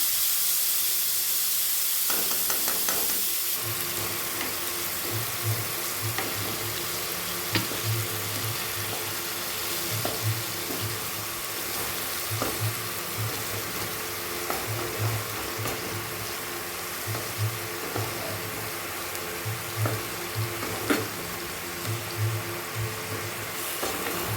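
A dead fish fried in hot oil with masala, giving a steady hiss and sizzle that starts loud, settles down, and is then broken by soft, regular knocks and bubbling pops of stirring and spattering.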